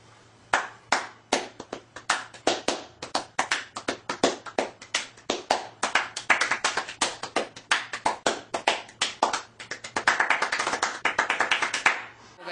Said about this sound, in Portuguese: Uma salva de palmas aí, então, a todos aqui da Aracred